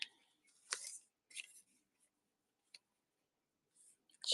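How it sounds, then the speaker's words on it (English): Several short, crisp snips of scissors cutting, spaced irregularly with quiet gaps between, close and fairly faint. "That's why I don't let Letty sit at my feet when I have scissors."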